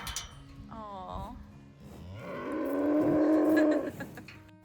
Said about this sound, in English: Where's the cows? Where are they? Here they come.